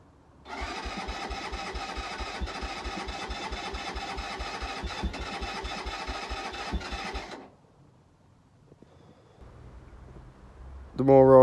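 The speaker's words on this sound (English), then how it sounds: "The more I try and start it, the more it's splittering away" A Keeway 125cc motorcycle engine cranks and sputters with a rapid, even chugging for several seconds, then stops; a quieter stretch follows before a brief louder burst at the end.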